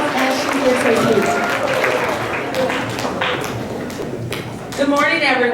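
Applause from a school awards ceremony audience carries on steadily, mixed with crowd murmur and scattered voices, then tapers as a speaker's voice rises near the end.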